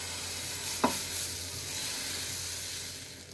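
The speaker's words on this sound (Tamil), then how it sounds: "இப்போ கேரட் ஊத்தப்பம் மாவு கொஞ்சமாக விட்டுக்கோங்க." Carrot uttappam batter poured onto a hot griddle for a mini vegetable uttappam catches with a quick splash, then settles into a steady, even sizzle that runs on alone.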